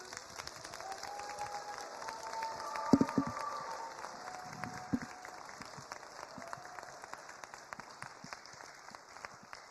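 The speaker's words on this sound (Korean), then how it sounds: "박수!" A church congregation gives steady, fairly quiet applause during a worship service. Dense clapping continues throughout with a few sharper claps. A faint murmur and a brief tone sound under it, and nobody talks over it.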